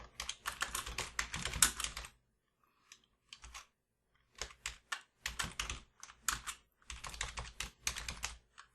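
Someone types a word on a computer keyboard: quick runs of close, crisp key clicks in short bursts separated by brief silent pauses.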